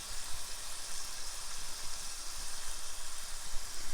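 Seasoned chicken breast cooking in a pan, a steady, even sizzle of frying that holds at moderate loudness throughout with no talking.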